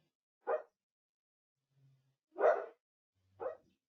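A small pet dog barks indoors, three short yaps separated by pauses, with a faint low whimper between them, fairly close and alone without talk.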